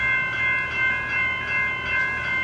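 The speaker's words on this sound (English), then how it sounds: "I think we've got a train coming in" Train pulling into Mordialloc station from the city end, a steady loud rumble with bright squealing tonal lines from wheels or brakes, slight rhythmic swells, and no talk.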